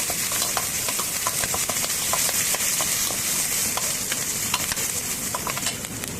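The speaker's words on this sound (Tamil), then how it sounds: "நல்லா வதக்கலாம்" Mustard seeds, lentils, ginger, curry leaves and green chillies sizzle in hot oil for a upma, with a steady frying hiss broken by scattered pops and crackles from the pan, close and continuous.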